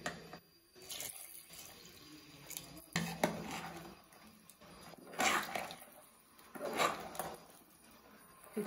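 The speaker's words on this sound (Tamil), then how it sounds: "இப்போ குழம்புக்கு தேவையான அளவுக்கு தண்ணி இறக்கி நம்ம ஊற்றிக்கலாம்." Water poured into a pot of mutton curry in a home kitchen, with several splashing bursts of running water and quiet gaps between them, close by, with no talk.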